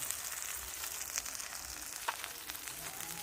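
Ground spices with chili powder, turmeric and salt fry in hot oil with a steady, fairly quiet sizzle, a few faint ticks and pops rising over the crackle.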